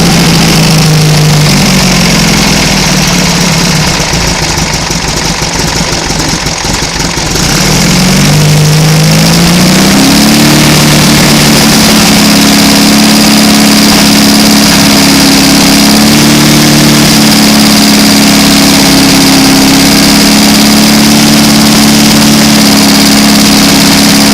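A loud 1800 stroker engine runs steadily at idle throughout, with a brief dip and a rise in pitch partway through before settling back into a constant drone.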